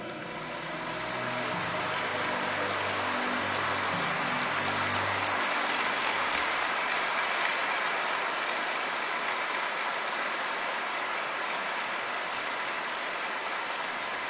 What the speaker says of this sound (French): Applaudissons une fois de plus les familles de Moon Shin-chul et Moon Shin-eung